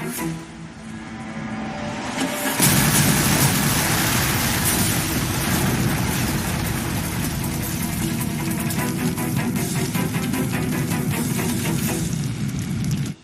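A car engine catches at once with an abrupt surge, then runs loud and rough at a steady idle for the rest of the stretch, with no voices heard.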